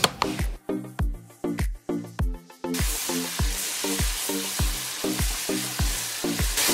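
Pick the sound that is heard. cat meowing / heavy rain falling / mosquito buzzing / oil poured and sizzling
oil poured and sizzling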